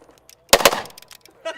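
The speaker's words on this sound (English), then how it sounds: "JJ, you've just fired your last shot on the challenge" A firearm fires at a shooting range during a range-day challenge: one sharp, loud close gunshot with a quick echoing tail, plus faint voices before and a short burst of talk at the end.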